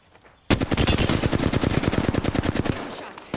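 Rapid automatic gunfire in a first-person shooter video game, a loud burst of tightly spaced shots that starts abruptly and keeps going for about three seconds before tapering into scattered reports.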